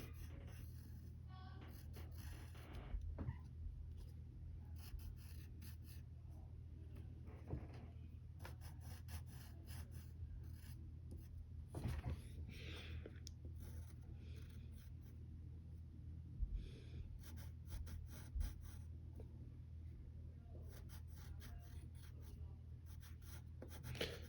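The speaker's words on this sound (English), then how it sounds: "And then you color those eyelashes in." A pencil steadily colors in the eyelashes of a Wonder Woman drawing, making a continuous soft scratching and rubbing with small bursts of stroke noise, close up and with no talking.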